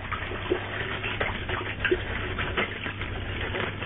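Hot water runs steadily onto a spool wound with 5 lb Platypus Platinum braided fishing line, a soft, continuous splashing stream at moderate distance with no talk.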